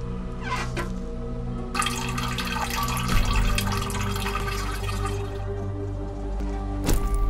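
A faucet in a video game runs with a broad, hissing gush of water that starts abruptly and flows steadily over a low droning background hum, with a couple of sharp clicks near the start and end.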